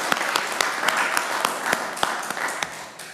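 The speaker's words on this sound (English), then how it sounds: "So round of applause for Brenda." Applause from the audience at a city Community Redevelopment Agency meeting in Groveland, with steady, dense clapping that fills the room and no speech over it.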